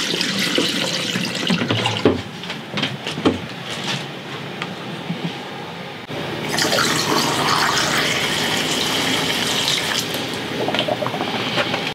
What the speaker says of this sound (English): dump it down the drains on both the shower and the sink